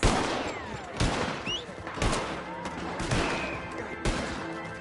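Gunfire rings out in Red Dead Redemption 2: a series of sharp, loud shots about a second apart, each trailing a short echo. A voice speaks faintly underneath.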